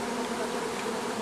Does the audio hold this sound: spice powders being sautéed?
no